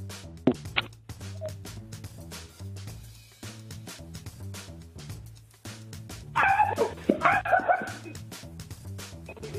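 A guard rooster on a home doorbell camera lets out a loud, wavering shriek in the second half, over a steady rhythmic music bed.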